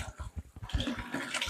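Quicklime being added slowly to water to make lime putty, a close sloshing, splashing pour with bubbling and fizzing that grows busier and hissier as the reaction starts.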